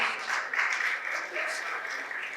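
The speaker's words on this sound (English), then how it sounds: "Please let's give her a round of applause." Audience applause at an entrepreneurship lecture in Lagos, a steady wash of clapping from a crowd that holds at an even level throughout with no break.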